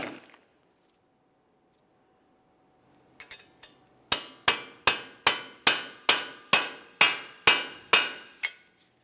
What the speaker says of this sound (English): I'm going to break the axle free from the wheel bearing using a hammer and punch